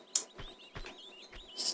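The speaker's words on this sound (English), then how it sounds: "Oh, the bird sounds really nice, right?" Several bird chirps sound in the Venice level of Tomb Raider II HD, short bright tweets repeating every half second or so, moderately near, with a longer trill at the end and no speech.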